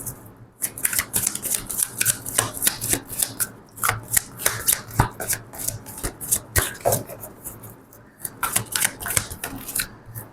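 Tarot cards are shuffled by hand close up, giving a quick, continuous run of crisp flicks and slaps with brief pauses between handfuls.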